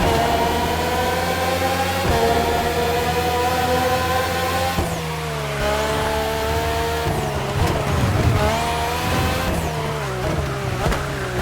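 A Red Bull race car engine in The Crew Motorfest screams at high revs, climbing through gears with abrupt shifts and a brief tire squeal, loud and close, alone without talk.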